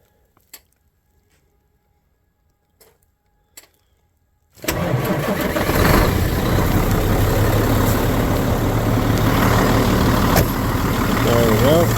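An engine turns over and settles into a steady, loud idle while warming up on a cold winter morning, after a few faint clicks and knocks in near silence.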